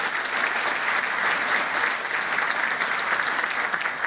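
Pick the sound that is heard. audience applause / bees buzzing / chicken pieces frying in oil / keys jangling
audience applause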